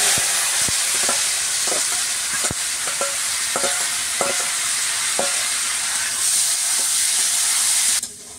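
Parboiled vegetables frying in oil with cardamom and cinnamon in a village kitchen, a steady loud sizzle broken by repeated sharp scrapes and clicks of a spatula stirring against the pan, with no voices.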